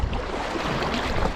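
Wind gusts by a salmon river on the Tay in Scotland, a dense, steady rushing roar buffeting close with no pauses, loud and broadband.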